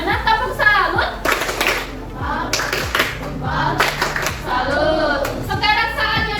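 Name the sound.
class of children doing a clapping salute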